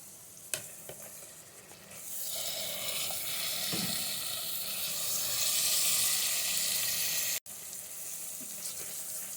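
Washed chicken pieces drop into a hot pan and start to sizzle loudly, a bright steady frying hiss with occasional stirring scrapes that continues close-up without talk.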